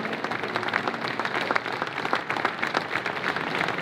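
A crowd applauds for Truck Hero at a veterans event, steady moderate clapping with no talk over it, slightly distant.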